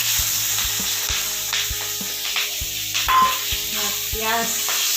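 Onion and green chili frying in a pan while being stirred, a continuous close sizzle with repeated knocks of the spoon against the pan in an uneven rhythm.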